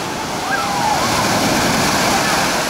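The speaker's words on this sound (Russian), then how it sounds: "сейчас будет очередная волна" Sea waves break against rocks along a Spanish shoreline, a continuous loud wash of surf and churning water filling the scene, with a faint voice briefly audible beneath the roar.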